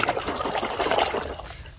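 Water runs and trickles while a muddy toy RC construction truck is being cleaned, a close, splashy flow that thins out toward the end.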